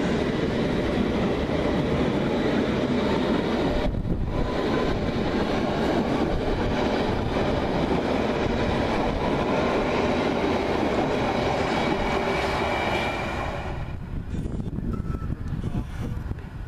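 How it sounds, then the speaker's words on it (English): A London Underground train bound for Amersham runs along the rails, giving a loud, steady rumble with rattling wheels on track for the whole stretch. The noise eases a little near the end. "Train to Amersham."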